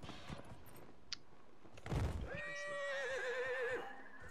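A horse whinnies in the video game Dragon Age Inquisition, a single wavering neigh rising out of a faint background with a soft thump just before it.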